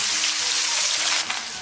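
A whole fish sears in hot oil in a wok, giving a bright, even sizzling hiss that holds steady and then drops off slightly near the end, with no speech.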